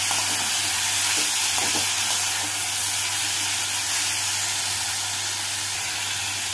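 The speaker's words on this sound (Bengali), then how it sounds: "মশলার সাথে মাংসটাকে ভালোভাবে কষিয়ে নেব।" Boneless chicken pieces coated in spices sizzle steadily in a pan, a constant broadband frying hiss with a couple of faint stirring scrapes early on, close and even throughout with no talking.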